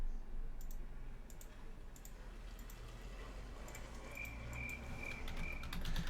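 Crickets chirp as a sound effect in faint, steady pulses over a low hum, with no voices.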